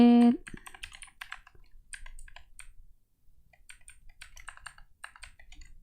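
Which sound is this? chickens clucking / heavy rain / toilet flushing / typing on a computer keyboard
typing on a computer keyboard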